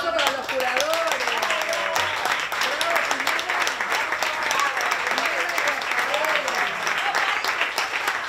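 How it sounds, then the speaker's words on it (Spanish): A crowd at an exhibition symposium applauding the show's curators, sustained, dense clapping with cheering voices and excited shouts rising over it, steady and close for the whole stretch. "Un aplauso para los curadores."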